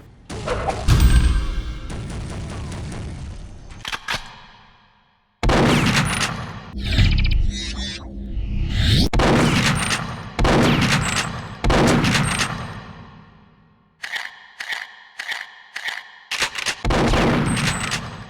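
Repeated heavy shotgun blasts in a first-person shooter video game, each loud boom followed by a decaying tail, with short silent gaps and reload clicks between shots.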